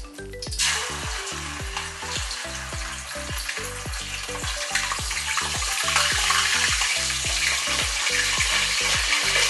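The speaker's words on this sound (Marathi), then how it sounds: "तेल गरम झाले की आले पेस्ट." Ginger paste hitting hot oil in a pan for a masoor curry: a loud sizzling hiss that rises and persists, with repeated scraping stirs underneath, close and with no talking.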